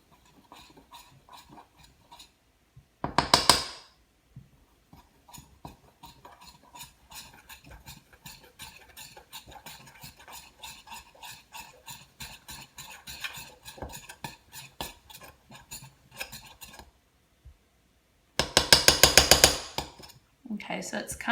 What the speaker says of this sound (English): Now I'm going to stir, and it says to stir until it's too difficult to stir